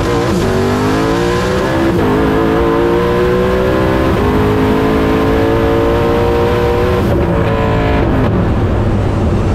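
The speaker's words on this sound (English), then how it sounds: "All right, so it did spin the tires a little bit." A drag car roars at full throttle in a hard launch, its engine note climbing steadily through the run with brief gear-change dips and loud, continuous mechanical noise that buries any tire spin.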